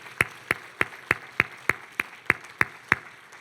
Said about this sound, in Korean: 이분들께 큰 박수 감사합니다.